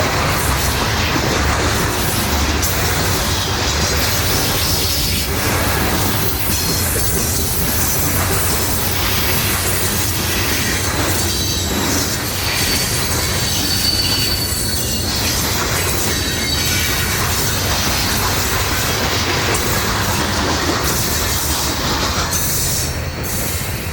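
A heavy loaded Conrail coal train rolls past fast and loud through Pennsylvania's Sinnamahoning Valley, with a steady roar of wheels on rails, rhythmic clatter and occasional metallic squeals.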